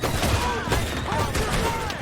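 Gunfire during a shootout in the Red Dead Redemption video game, rapid bursts of shots crackling close and loud, mixed under shouting voices and game effects.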